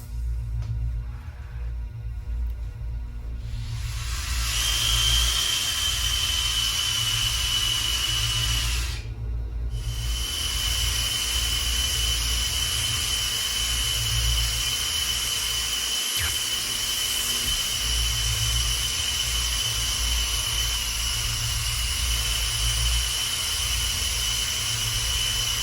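A gas torch heating a copper refrigerant line for brazing during HVAC coil work, a steady close roaring hiss sustained for the whole stretch over a low hum, with one brief break.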